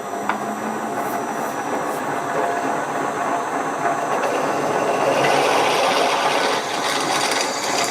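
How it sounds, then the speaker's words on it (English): An electric motor on a variable frequency drive runs with a continuous droning hum and hiss, its tone rising a bit as it speeds up. "I'll crank this variable frequency drive up"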